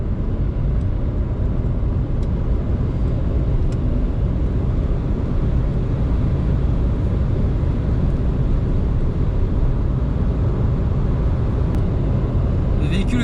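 A Renault Zoé electric car cruising at highway speed near its top speed, a constant loud rush of wind and road roar filling the cabin with no engine note, steady and unbroken from start to end.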